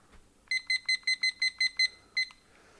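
A kitchen timer beeps as it is set, a quick run of nine short, clear, evenly spaced electronic bleeps followed by a pause and one final beep, close and alone.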